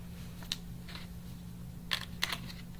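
A few sharp plastic clicks as sewing clips snap onto the side of a bag under construction, three or four close, brief snaps spread over a quiet background with a low steady hum.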